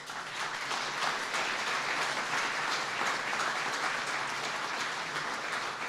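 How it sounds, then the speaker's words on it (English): A large crowd at an Honor Flight event applauds a World War II, Korea and Vietnam veteran, dense steady clapping that fills the room evenly and holds without a break. "Let's give him a big round of applause"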